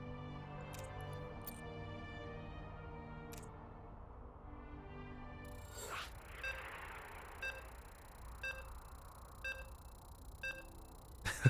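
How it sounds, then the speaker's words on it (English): A series of short electronic beeps from StarCraft 2 loading into a match sounds at regular intervals, several evenly spaced chirps over a quiet hum, following a low tonal drone. "You can hear the beeps."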